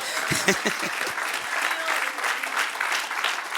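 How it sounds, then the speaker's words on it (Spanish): A church congregation applauds in praise, dense steady clapping filling the room, with a voice speaking over it at the start. "Dale un aplauso al que reina."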